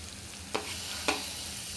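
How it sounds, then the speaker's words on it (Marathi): Minced chicken kheema sizzles in a pan of roasted spices, a steady soft frying hiss broken by two brief scraping stirs. "मसाले छान भाजून झाले की आपण यात खीमा घालूया।"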